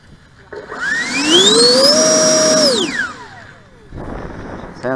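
A 90mm electric ducted fan in an F-86 Sabre model jet spools up to a loud, high, whining tone, holds steady, then winds down, with the pitch rising and falling smoothly.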